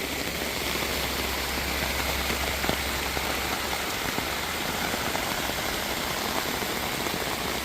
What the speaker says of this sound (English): She's raining hard now.